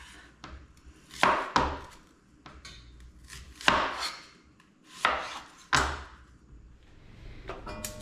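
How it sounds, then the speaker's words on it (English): Onions being chopped on a board with a knife, several loud separate thunks spaced irregularly a second or so apart, close and clear with quiet gaps between. "I've gotten all of the onions chopped and weighed."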